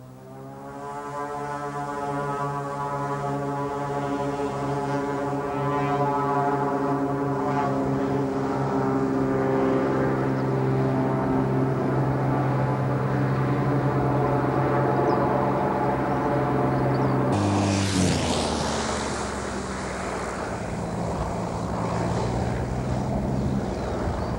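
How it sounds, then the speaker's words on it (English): Agricultural propeller aircraft on a crosswind takeoff and landing gives a loud, steady droning engine hum that holds close, then changes pitch suddenly near the end as the power shifts, with no speech. "Now a takeoff and landing with a right-hand crosswind."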